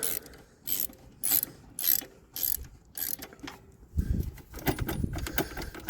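A ratchet wrench works a corroded exhaust bolt on a Suzuki DR650 motorcycle, giving several quick clicking strokes in a steady rhythm close by, followed by a rougher clattering of metal.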